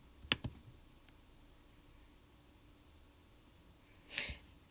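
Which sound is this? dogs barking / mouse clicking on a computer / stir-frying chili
mouse clicking on a computer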